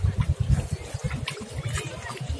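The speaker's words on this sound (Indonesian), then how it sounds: "Siram-siram." Water poured and splashed over a person during a music video shoot, an uneven run of close sloshing and gurgling bursts with a low, wet, choppy texture.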